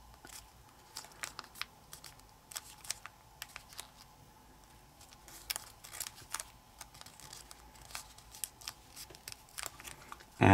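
Paper being creased and folded for an origami praying mantis, heard as scattered crisp ticks, crinkles and light snaps, close and quiet over a low steady background hum.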